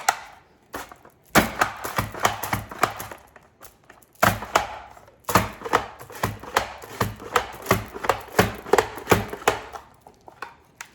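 Potatoes pass over a mandoline slicer in quick repeated strokes, each giving a sharp close click-and-slice, in fast bursts with brief pauses between runs and no talking.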